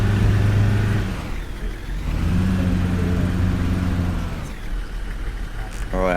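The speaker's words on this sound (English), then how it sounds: "That does not sound like it's revving at 2000 RPM there, does it?" A loud video-game bus engine roars and revs continuously, droning low and steady with a rising whine near the end, under a man's speech.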